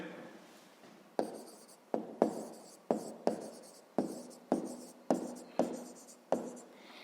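Pen strokes scratch across paper as a digit is written for a fifth-grade maths exercise, about ten short, sharp scrapes in an irregular rhythm, close and clear with no talk.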